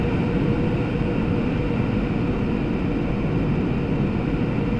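A fighter jet engine in Microsoft Flight Simulator, flying over North and South Korea, throttling back: a loud, steady, dense roar that stays constant throughout, with no speech over it.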